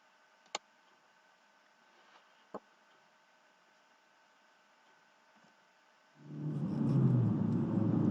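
A modern red car in a video game starts up as a low, steady engine rumble that rises in and holds loud, preceded by a couple of faint isolated ticks over near silence.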